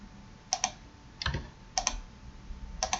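Computer keyboard keys pressed as Blender shortcuts while modeling a 3D earring, four short separated clusters of crisp clicks across a quiet room, each a quick double or triple tap.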